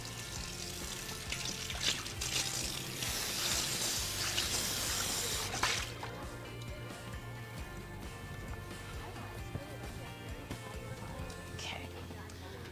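Food is washed under a running kitchen tap, a steady hiss of water splashing for several seconds before easing off, with a person talking softly over it.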